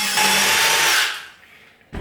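A close power drill drilling holes in cabinet wood for door handles whirs loudly for about a second, then winds down to silence before a brief restart at the very end.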